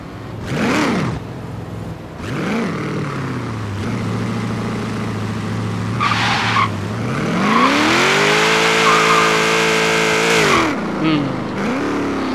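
A 1000+HP blown Holden Torana A9X with a Powerglide transmission in Forza Horizon 3 revs and launches hard, the engine note climbing and holding at high revs, loud and close, with brief blips before the pull.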